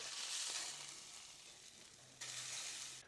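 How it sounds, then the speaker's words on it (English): Steak fat cap rendering in a stainless steel pan, a soft, steady hiss and crackle of frying fat that swells again near the end, fairly quiet and heard alone. "I'm just going to let that fat cap render down a little bit."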